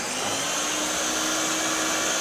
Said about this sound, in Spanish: Se va a licuar.